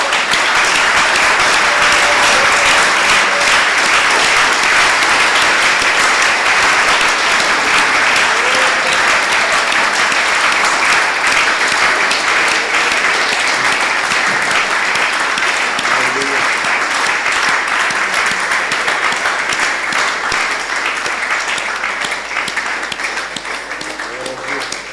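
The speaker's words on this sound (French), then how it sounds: "Une offrande d'acclamation au Seigneur." A church congregation breaks into sustained, loud applause offered to the Lord, a dense wash of clapping that holds steady for the full stretch and eases slightly only at the very end.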